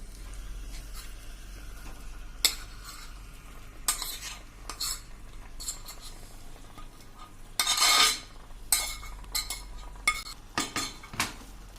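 Marinated fried vegetables being stirred in a pan give repeated scraping and clinking of a utensil against metal over a low background sizzle, close-up, with a louder burst of stirring midway and no speech.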